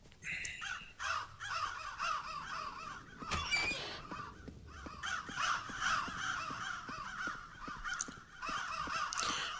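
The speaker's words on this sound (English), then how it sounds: "Why is there so many birds?" Many crows caw in a video game, harsh repeated calls that overlap steadily throughout, with a brief crackling burst partway through.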